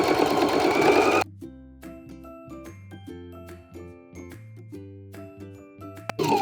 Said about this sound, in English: Make sure you back stitch, and then we're gonna blend down to our chalk line.